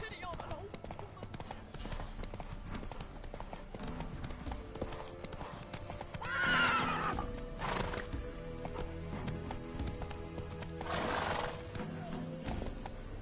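Horse hooves clip-clop steadily through The Witcher 3 game world, with a whinny rising briefly in the middle and another near the end over a continuous music and ambient bed.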